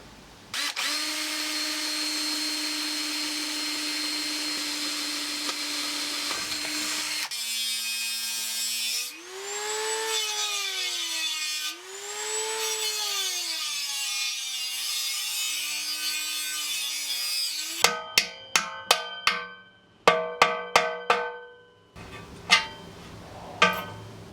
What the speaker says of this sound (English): I'm going to just drill some holes all the way around the perimeter of the hole